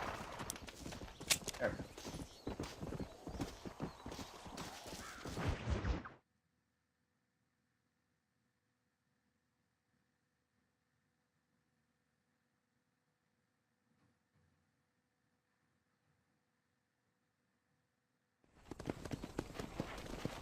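Horse hooves clip-clop quickly and closely while riding in the video game Red Dead Redemption. The rapid galloping plays for several seconds, stops for a long silent gap, then resumes at the end, with a brief spoken remark.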